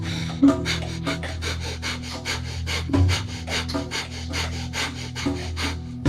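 Kapalabhati breath of fire, a rapid series of sharp, forced nasal exhalations in a steady quick rhythm, close and loud, with no talking.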